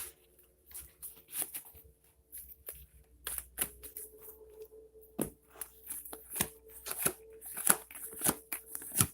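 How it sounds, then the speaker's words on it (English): Oracle cards are shuffled in a quiet room, a long run of soft papery riffles and taps coming in uneven bursts, close and fairly faint, with no one talking over them. "Let's shuffle a little bit more."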